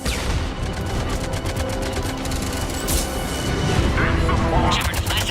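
Rapid bursts of gunfire crackle through a Mass Effect 3 combat scene, dense repeated shots and impacts layered over a busy battle background.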